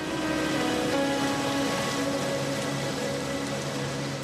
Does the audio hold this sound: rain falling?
yes